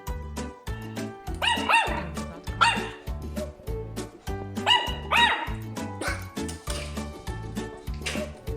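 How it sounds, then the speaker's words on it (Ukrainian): A dog barks repeatedly in short bursts over a rhythmic musical backing, with a few higher yips mixed in. "Так, він гавкає."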